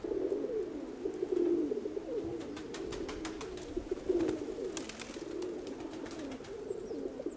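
Pigeons in a loft of over a hundred birds coo in low, repeated throaty calls, several birds overlapping close by with a few flutters and shuffles, no voices.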